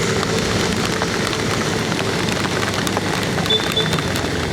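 Heavy rain pours steadily on arrival in the town of Toli-Toli, a dense continuous hiss of drops drumming on surfaces, loud and unbroken throughout with no voices.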